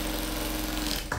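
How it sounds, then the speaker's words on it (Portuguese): A sewing machine runs a side seam on a fabric mask holder, giving a fast, even mechanical whirr with a rapid stitching rhythm that stops abruptly near the end of the short burst. "vou passar uma costura na lateral"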